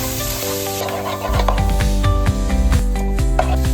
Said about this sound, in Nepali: किमालाई मजाले चलाइदिनुस्